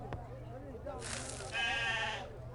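Goat bleating in the video game Murder on the Orient Express, a drawn-out wavering bleat rising loudly near the end, preceded by a short thud and a faint low hum.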